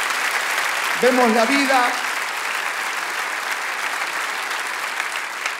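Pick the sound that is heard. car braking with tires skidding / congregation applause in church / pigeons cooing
congregation applause in church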